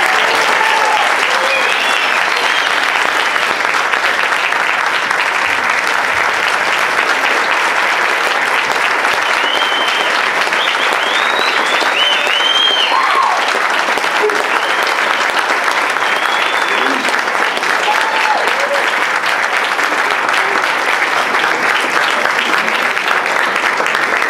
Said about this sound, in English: Please join me in a round of applause for the 11 newest second lieutenants in the United States Army